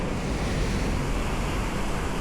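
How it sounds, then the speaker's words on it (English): Wild, roaring Pacific Ocean waves seen from the shore near Ediz Hook, a steady, loud, broadband rush of surf mixed with wind buffeting the microphone, with no voices. "Then we've got the wild, roaring Pacific Ocean."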